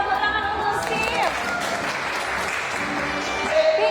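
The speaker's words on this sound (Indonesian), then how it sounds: "tepuk tangan untuk Steve." Classroom applause: a group of students clapping briskly and continuously for a classmate, with a teacher's voice speaking over the clapping.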